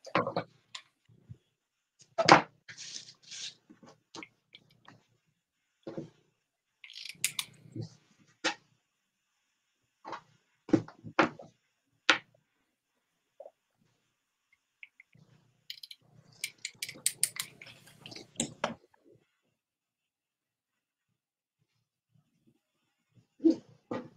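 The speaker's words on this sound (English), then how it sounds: "Who else likes the sound of scissors cutting fabric?" Scissors cut through fabric in a series of short, crunchy snips, irregular and close, with quiet pauses between bursts, heard on their own.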